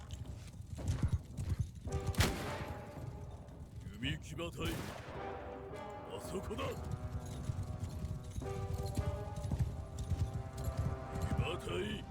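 Horse hooves clip-clop steadily in the samurai video game Shokuho, mixed with sharp gunshots and battle noise throughout.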